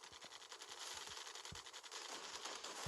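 Rapid video game gunfire in a multiplayer event, dense bursts of automatic shots crackling continuously over a busy background, loud and close with no talk.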